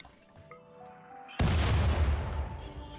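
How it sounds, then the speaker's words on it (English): A mortar strike in RimWorld lands as one sudden loud blast after a quiet stretch with faint tones, then a long rumbling roar that slowly decays, with no voices. "The colonists took a short break from the mortar strike and are already back at it again"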